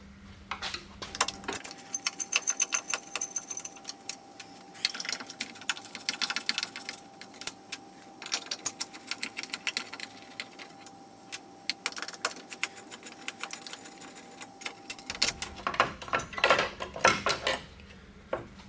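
Phillips screws being backed out of the headlight retainer bracket on a 2000 Jeep Cherokee XJ, heard as close, quiet metallic clicks and light ticking taps that repeat irregularly throughout.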